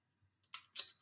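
Adhesive tape pulled and pressed onto a paper plasmid model of circular bacterial DNA, two short crisp rips close by after a near-silent start, with no talking.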